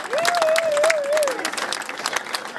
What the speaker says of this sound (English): Wyndham a big round of applause, ladies and gentlemen.